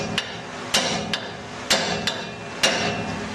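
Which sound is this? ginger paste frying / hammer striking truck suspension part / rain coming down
hammer striking truck suspension part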